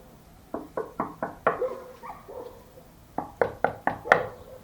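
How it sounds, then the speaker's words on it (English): Knuckles rap on a house door in two bursts of about five sharp knocks each, separated by a short pause; the knocks are fairly close and moderately loud against a quiet background. "Maybe try knocking."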